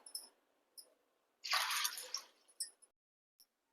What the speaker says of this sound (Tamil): இப்போ இதுல தண்ணி சேர்த்து இது ஒரு 8 மணி நேரம் நல்லா ஊறட்டும்